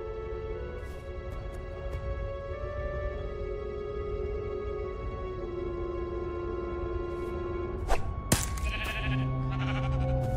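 Sheep bleating in the video game Minecraft: Story Mode, heard over a steady tonal background of game music, with brief sharper game effects near the end.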